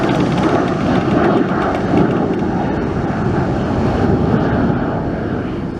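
A McDonnell Douglas MD-88 airliner roars steadily at close range, a loud broadband jet rumble that holds throughout with faint wind buffeting and no voices.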